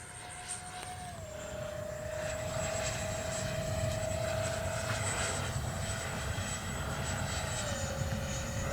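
A Freewing F-14A Tomcat RC jet flies past with a steady, high electric ducted-fan whine that shifts pitch as it moves, moderately distant, with no voices.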